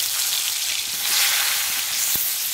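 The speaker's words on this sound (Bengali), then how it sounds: "কেটে রাখা আলুগুলো ওই তেলে ভেজে নেব।" Potatoes sizzle steadily in hot mustard oil with black cumin, a dense, continuous close frying hiss with no voices over it.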